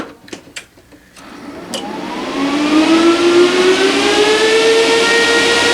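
A pair of Antminer S19J Pro ASIC miners power up with a few clicks, then their fans spin up into a loud, close, steady roar with a rising whine that settles into a constant high drone.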